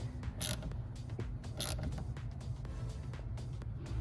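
Ratcheting creaks from tightening down a car battery's negative terminal, a few short clicking turns close up, quiet and with no talk.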